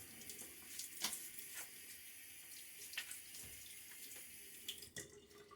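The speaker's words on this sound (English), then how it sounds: "Get a little water on my face now." Water from a sink tap splashed onto the face during a wet shave, a steady running hiss broken by several short splashy bursts, close and moderately quiet with no talking.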